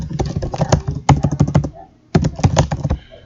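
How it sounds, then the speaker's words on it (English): Bursts of rapid key clicks on a computer keyboard while typing a name in Microsoft Word, two close, loud runs of tapping separated by a brief pause, with no talk over them. "Type our name again."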